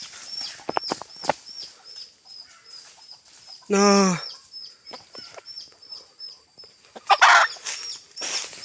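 A rooster gives a loud squawking cluck amid scattered clucks and chicken noises as it is caught in a snare, with people calling out and a steady high insect-like whine behind.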